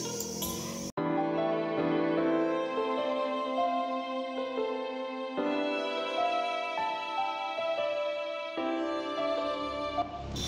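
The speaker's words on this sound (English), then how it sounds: "I layered this violin with the same violin patch with one octave higher" Layered violin patch in FL Studio, the same sound doubled one octave higher, plays a sustained melodic line for about ten seconds after a short opening note, steady and loud with no voices.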